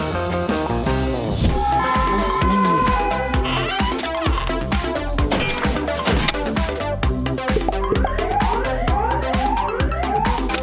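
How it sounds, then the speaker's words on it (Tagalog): A toy ambulance siren wails loudly and continuously, its electronic tone sweeping up and down in a fast repeating pattern that fills the whole clip. "May kumukutitap na ilaw at malalakas na sirena ang mga ambulansya."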